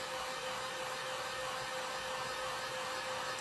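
A dryer blowing to dry a wax infuser gives a steady, loud, unbroken whooshing hum with a constant motor tone, close up and alone.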